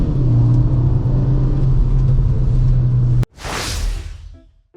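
A Kia car's exhaust gives a steady, loud, deep rumble for about three seconds, and then a sharp break is followed by a rushing whoosh that swells and fades.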